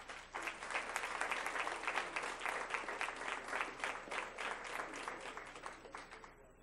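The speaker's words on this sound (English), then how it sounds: "Let's give them a round of applause." A crowd claps steadily at a school board meeting's award presentations, dense sustained applause that carries evenly for several seconds before tapering slightly.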